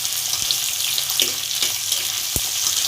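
Onions go into hot oil in a pan for a Rajasthani aloo pyaz sabzi and sizzle with a steady, close hiss, broken by a few small pops and clinks.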